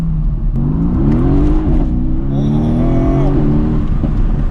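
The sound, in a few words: Mercedes-AMG car engine and exhaust popping in Race mode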